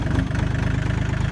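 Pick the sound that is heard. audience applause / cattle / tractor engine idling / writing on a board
tractor engine idling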